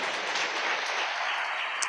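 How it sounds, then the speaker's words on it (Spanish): A church congregation applauds during a sermon, a dense, even wash of many hands clapping together that holds steady at moderate loudness throughout, with no voices on top. "aplauda al Señor"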